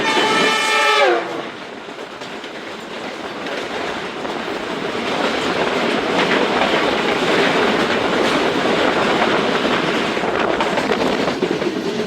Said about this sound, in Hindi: सामने से आ रही है सिस्टर ट्रेन 28 डाउन